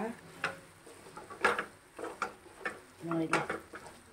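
Prawns and gongura leaves stirred together in a cooking pan: a steady series of soft scraping, clinking strokes at an uneven rhythm, close and fairly quiet.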